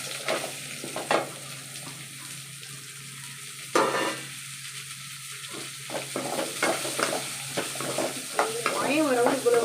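Curry leaves tempering in hot oil crackle and sizzle in bursts, with a spoon stirring the pan and some running-water sounds in a home kitchen, fairly close.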